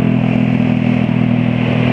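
A modified motorcycle engine runs loud and steady at close range, its idle carrying a harsh metallic knocking clatter throughout with no talking.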